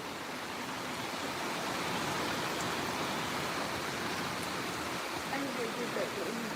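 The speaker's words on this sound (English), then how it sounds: "It's more rain now." Heavy rain pouring down outside a house during windy weather, a dense steady hiss that stays loud throughout, with faint voices barely audible beneath it.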